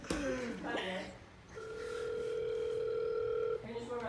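Ringback tone of an outgoing phone call: a steady, clear ringing lasting about two seconds, with people talking before and after it.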